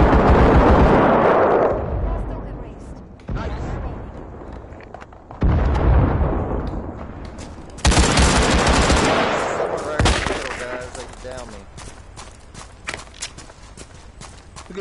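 Gunfire in the VR shooter Firewall Zero Hour on PSVR, with a London-style map: loud, close bursts of rapid shots and sharp single reports separated by short pauses, with footstep-like clatter between them.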